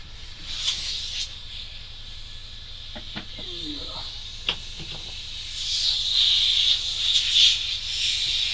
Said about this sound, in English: Then I'll jump over to the top notch of button airbrush for the grey.